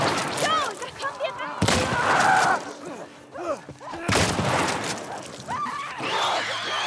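Gunfire in The Last of Us Part I: several loud, sharp shots burst out in short clusters amid hectic game noise, and voices call out between them.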